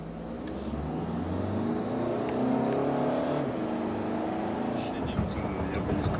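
A VW Tiguan accelerating in sport mode, heard from inside the cabin as a steady engine drone that swells and climbs in pitch before easing off.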